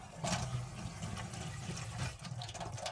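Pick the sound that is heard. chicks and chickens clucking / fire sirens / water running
water running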